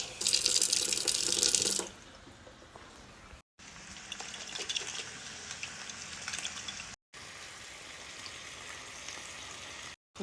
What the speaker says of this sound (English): I'm gonna just put a little bit of water.